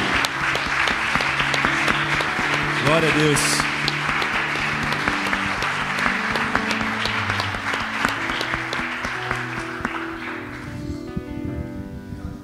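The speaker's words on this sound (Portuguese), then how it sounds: "Aplauda Ele mais uma vez." Congregation applauding during a church worship service, sustained loud clapping with cheers from the crowd, while a voice speaks briefly over it and music tones sound beneath before the applause fades near the end.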